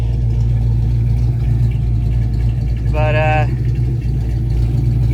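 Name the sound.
Foxbody Mustang engine running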